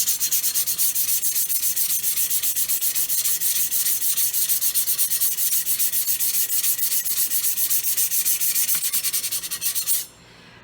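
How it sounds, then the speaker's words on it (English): Steady, continuous scraping of sandpaper worked all the way around a tumbler cup during prep, a close, even rasping rhythm lasting about ten seconds before stopping abruptly. "you just kind of scrape it all the way around and get it sanded really good"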